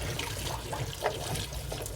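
Water is poured while cooking a Cretan askordoulakoi dish in a Greek home kitchen, a faint brief trickle and splash over a low background hum.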